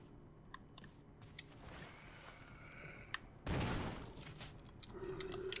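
Gunfire in the Resident Evil 1 Remake video game sounds as a sudden loud burst in the middle of a quiet ambient background, with small clicks and scattered noises before and after.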